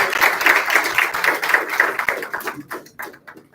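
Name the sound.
audience applause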